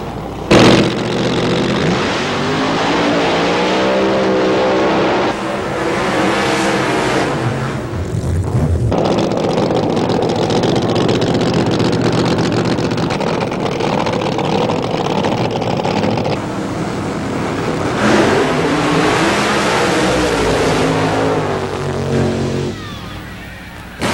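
Alcohol-fuelled funny car drag racing engines roar loud and continuous for over twenty seconds, with rising and falling revving swells and no pause in the noise.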